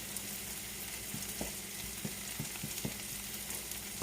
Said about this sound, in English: And so I'm just basically frying up the curry.